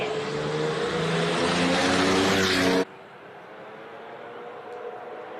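A 3.6 litre turbocharged classic race car engine roars loud and close at a classic car speed event, holding a steady drone before cutting off abruptly into quieter background noise.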